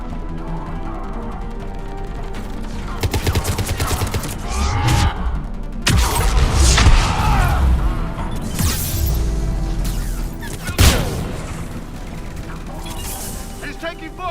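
Mass Effect 3 combat in the Legendary Edition, with bursts of gunfire, crashes and heavy thuds in a loud, dense mix, broken by sharp impacts and under scattered voices.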